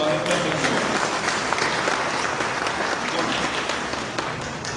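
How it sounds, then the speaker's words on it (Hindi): An audience at a government commemoration event for Rajaram Mohan Roy bursts into steady, dense applause that keeps going at an even level before tapering slightly at the end. "जोरदार ताली बजा के स्वागत कर सकते हैं"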